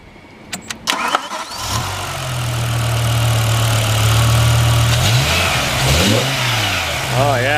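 A 2007 BMW M6 in black sapphire metallic cranks with a few clicks and a whirring starter, then catches into a loud, steady idle with a couple of brief revs blipping near the end.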